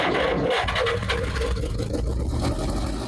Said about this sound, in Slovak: Takže traktorik štartuje na brnk